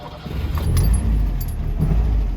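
A 1964 Peugeot 403 is started with the key, giving a faint key jangle and clicks, then a steady low engine rumble that fills the clip.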